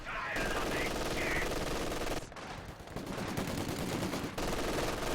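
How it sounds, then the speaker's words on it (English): MG42 machine guns in the Company of Heroes 2 video game fire in long, dense sustained bursts that fill the whole clip. The bursts dip briefly twice, with a faint background voice underneath. "So we've got a couple MG42s blasting away"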